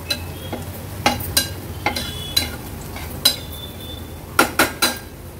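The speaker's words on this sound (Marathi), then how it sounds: "व्यवस्थित मिक्स करून घेते" Metal spoon scraping and clinking against a pan while mixing ground coconut masala, several sharp knocks at an irregular pace over a low steady hiss, no voices.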